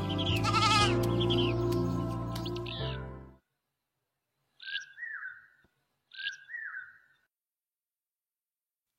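Sheep bleat loudly in one long, wavering call, then after a silence two shorter, higher calls follow, close and clear with nothing else around them.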